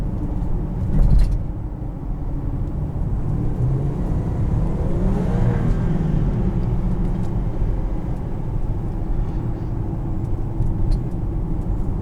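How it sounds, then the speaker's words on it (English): A 2019 Land Rover Discovery's supercharged engine runs steadily with a low rumble, rising briefly as it revs, with a faint supercharger whine riding above the motor. "you could just tell by the engine note. You could hear the supercharger."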